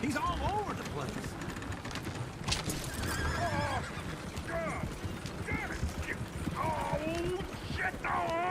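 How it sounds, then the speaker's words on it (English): Horses neigh and whinny repeatedly in a Red Dead Redemption 2 scene, their rising and falling calls standing out over hoof clatter, mechanical rattling and people talking. "Oh, shit, the horses! Damn horses!"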